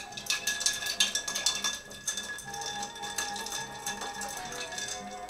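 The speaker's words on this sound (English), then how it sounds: "Doesn't hurt to stir a little extra long and get that chill." A Brooklyn cocktail being stirred with ice, spoon and cubes clinking rapidly against the glass in a quick rhythmic rattle that slows and steadies, close and clear with no talking.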